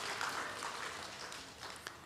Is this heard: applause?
yes